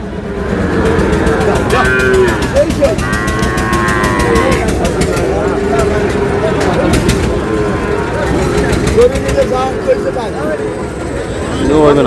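Sahiwal cattle moo repeatedly at a busy Bangladeshi cattle market, several calls rising over a constant crowd murmur, with people talking and bargaining nearby and some birds faintly audible.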